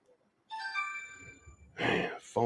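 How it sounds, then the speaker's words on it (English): A mobile phone ringtone sounds as a short tonal melody, fairly close, followed by a sharp breathy noise burst. "Phone going off."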